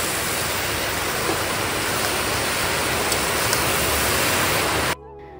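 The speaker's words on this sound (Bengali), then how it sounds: "তো বৃষ্টিও পড়ছে" Steady rain pours down on a rainy day, a dense, loud, even hiss that continues unbroken for several seconds and then cuts off abruptly near the end.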